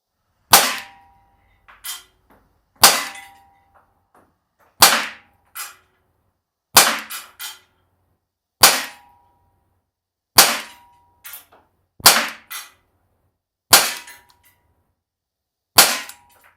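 Compact CO2 blowback BB pistols fired in a field test, a model like the BP9CC among them: about a dozen sharp, loud snapping shots, some in quick pairs, spaced roughly a second apart with quiet gaps between.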